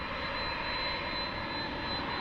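A 28-year-old Boeing 767-300ER jet roars at DFW Airport at night, a steady, loud engine rumble with a thin high whine running unbroken throughout.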